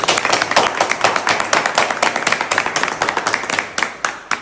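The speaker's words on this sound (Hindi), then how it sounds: "घनघोर जोरदार तालियां बजाएं प्लीज।" An audience claps loudly in honour of a team leader at a network-marketing gathering, a dense close burst of many hands with a quick, steady beat running throughout.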